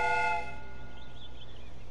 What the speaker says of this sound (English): これで汽笛が鳴った。